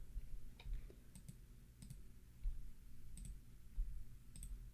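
Computer mouse clicking during Photoshop editing, a series of crisp, close, quiet clicks spaced irregularly over a faint hum, with no talking.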